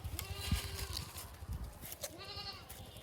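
A goat bleats twice in a village field, close and fairly loud, with a short quiet gap between the wavering calls.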